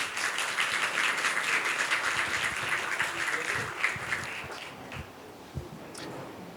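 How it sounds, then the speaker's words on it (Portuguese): Audience applause for Flávio Guerra at a business panel event on trends and challenges for 2026, a steady wash of clapping that holds through the clip and thins toward the end, with voices faintly mixed in. "Salva de palmas,"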